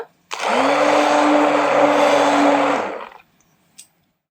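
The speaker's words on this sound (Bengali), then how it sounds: "এরপরে হ্যান্ড ব্লেন্ডারের সাহায্যে আমি এটাকে একটু ভালো করে ঘুরিয়ে নেব।" A hand blender mixing a thick mango milkshake made with milk runs in a single loud, even burst of about three seconds, then cuts off into quiet.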